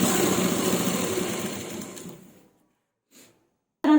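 A sewing machine stitches a salwar waistband in a close, steady, rapid whir for about two seconds that winds down to silence, followed by a couple of faint clicks.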